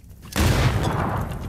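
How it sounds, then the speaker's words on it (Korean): A grenade goes off in PUBG, and a sudden loud boom gives way to a sustained roar of gunfire and rumbling that carries on to the end. "다시 한번 수류탄!"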